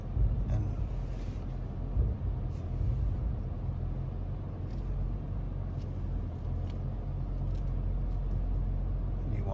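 A car slowly reverses with a short trailer in tow, a steady low engine rumble at low speed running throughout, fairly loud and close, with no talk over it.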